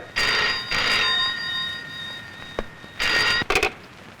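An old-style telephone bell rings in several loud bursts with short pauses between them, with no one talking.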